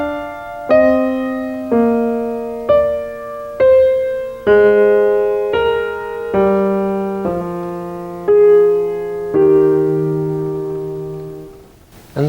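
Piano passage in two contrapuntal layers stepping downward out of step with each other, a slow series of about a dozen distinct struck notes and chords decaying one after another, solo and close.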